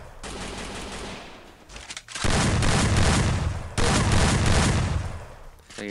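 Rapid automatic gunfire bursts from the battle royale video game Free Fire during a squad duel, loud and dense with short gaps between volleys and a booming low end.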